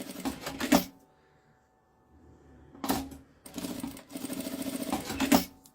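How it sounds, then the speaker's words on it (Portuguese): A sewing machine stitches the handles of a small bag in short bursts, with a loud first run, a pause, then two longer close-up runs of rapid mechanical whirring and clatter. "Eu vou começar costurando aqui, ó, os puxadores."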